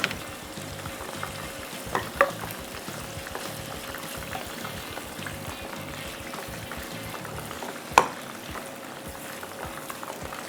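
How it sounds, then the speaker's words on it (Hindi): Fish fillets frying in hot oil, a steady close crackling sizzle throughout, with two sharper clinks or pops standing out briefly, no voices. "बाकी के भी जो हैं फिले इनको भी इसी तरह से फ्राई करने के लिए फिर डाल देंगे।"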